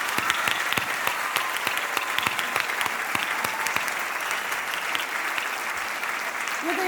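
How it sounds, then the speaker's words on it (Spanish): Morning audience applause at the Cantar presta muncho 2026 singing event, a steady crowd of clapping with distinct individual claps cutting through, continuing at a moderate level for several seconds, with a brief voice near the end. "quisiera pedir el primer gran aplauso para él de la mañana"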